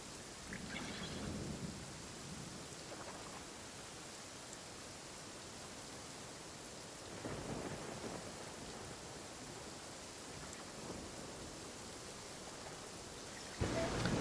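Thunderstorm in Genshin Impact, with steady rain hiss throughout and low rumbling thunder swelling around the start and again midway, ending in a sharper crack.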